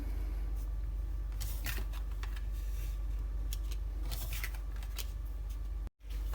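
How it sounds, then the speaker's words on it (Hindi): Tarot cards handled close by in a quiet room, with a series of soft papery shuffles, slides and light taps as the cards are gathered and set aside, no voices. "ये आपके कार्ड्स अपने साइड में रख देती हूँ"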